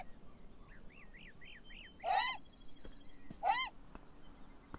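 Seagulls flocking at the seaside to eat bread in the game Beyond Eyes, with a run of short rising chirps, then two loud squawking calls separated by a pause over soft ambient noise.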